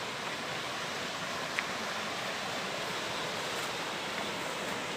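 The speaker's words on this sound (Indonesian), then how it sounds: "Udah nyampe sungai nih." Water rushes in a steady, dense broadband hiss along a fairly clear river on the way to the Mlangen waterfall in Ponorogo, constant and close with no voices.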